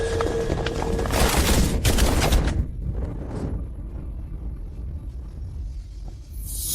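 A volley of gunfire erupts in a dramatic action scene, dense loud crackling bursts for about two seconds, then a lingering rumbling echo that slowly fades, with a faint single report near the middle.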